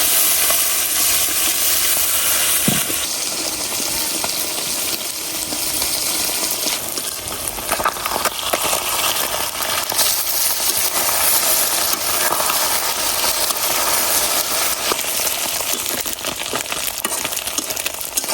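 Small puti fish fry in hot oil in a wok, giving a continuous dense sizzle close by, with occasional scrapes and small clinks of stirring throughout.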